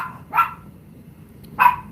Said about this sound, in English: There's a little dog barking up the other end.